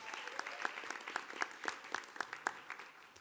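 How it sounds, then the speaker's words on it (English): Audience applause at a school district regular board meeting, a steady patter of many hands clapping at moderate distance with sharper individual claps standing out, continuing throughout. "If you give them a round of applause."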